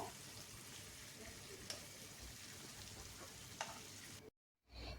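Al Faham chicken coated in masala cooks in a plain pan without oven or grill, a faint, steady sizzle with a few soft clicks, briefly cutting out near the end, with no talking.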